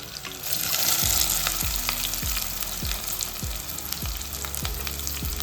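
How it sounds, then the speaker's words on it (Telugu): Onions and green chillies frying in hot oil for a mutton curry, a steady loud sizzle with rhythmic stirring knocks roughly every half second, no talking. "నూనె అయితే మరిగింది కదమ్మా ఉల్లిపాయలు పచ్చిమిరకాయలు వేసుకుందాం"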